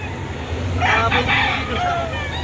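At a chicken market in Lipa City, Batangas, a rooster crows over clucking fowl and background traffic noise, with people talking nearby.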